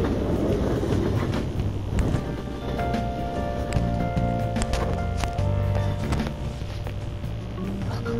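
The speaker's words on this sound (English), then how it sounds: "While we're riding the train, we've got some downtime." A commuter train ride in Persona 5 rumbles steadily throughout, with a low rolling drone, faint rail clatter and airy hiss, and no voices.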